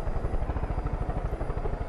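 A helicopter in the video game Far Cry 5 flies close by, its rotor producing a loud, rapid, steady chopping thud that continues alone throughout.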